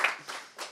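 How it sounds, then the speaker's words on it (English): Conference audience at the Ubuntu Summit clapping after a session, a short, fairly faint patter of applause that swells in two brief bursts. "So a big round of applause, please"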